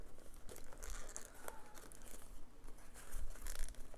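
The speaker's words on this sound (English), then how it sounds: "you can probably just valley fold it in" Origami paper being valley folded gives close, continuous crinkling and crumpling with brief crisp creases and rustles, soft and steady throughout.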